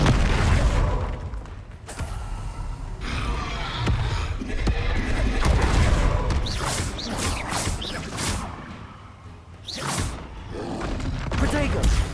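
Fiery spell blasts and booming impacts in a Hogwarts Legacy wizard duel, with swooshes and bursts rising and falling over about twelve seconds amid a constant busy battle din, loud and close.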